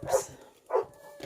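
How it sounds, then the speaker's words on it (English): Dogs bark excitedly as they get ready to go out, two loud, close yelping barks separated by a short pause, with a fainter third starting at the end. "dogs are getting ready to go out"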